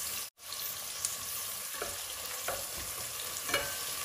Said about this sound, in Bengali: তেল, পেঁয়াজ, রসুন আর শুকনা মরিচ দিয়া বাগার।